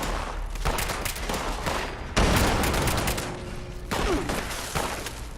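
Gunfire in Fallout 76: loud rapid bursts of shots crackle in clusters, with a heavy boom-like impact midway and another burst later, close and dominant throughout.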